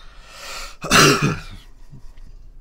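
A single harsh cough with throat clearing from a man who has a lingering cough, loud and close, fading into quiet breathing.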